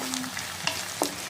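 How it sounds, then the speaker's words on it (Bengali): Ginger garlic paste frying in a pan over low flame while being stirred, a steady soft sizzle with a few scraping stirs and light clicks, close and alone. "আর এখন আদা রসুন বাটা ভালো করে ভেজে নেব"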